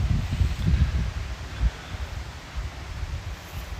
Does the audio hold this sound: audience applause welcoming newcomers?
no